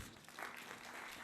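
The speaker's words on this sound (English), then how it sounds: "please give him a big round of applause" Conference audience applause for a session chair, a short steady wash of clapping, faint and distant.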